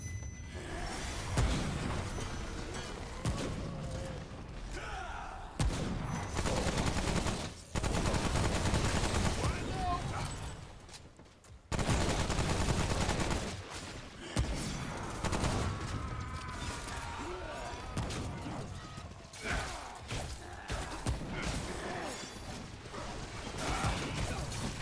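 Dense, continuous gunfire from the video game Remnant: From the Ashes, loud rapid bursts and mechanical clatter with short pauses, while players talk over it.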